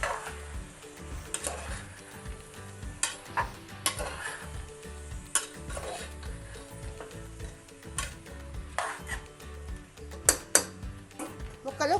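Vegetables with chili powder stirred and frying in a pan for vegetable dum biryani, a low steady sizzle broken by repeated scrapes and light clinks of a spoon against the pot, moderately close.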